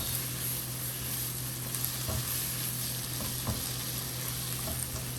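Sliced poblano, orange and red peppers frying in a pan for vegetable pad thai, a steady close sizzle with a few soft stirring knocks and no speech.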